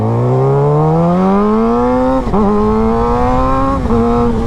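A Suzuki GSX-R sport motorcycle engine pulls hard under a rider, a loud, close, rising whine climbing steadily through the revs with brief dips at gear changes.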